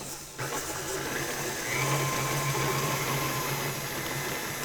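A stand mixer creaming gingerbread cutout cookie dough, a steady mechanical motor whir with a constant hum running throughout, close and continuous with no talk.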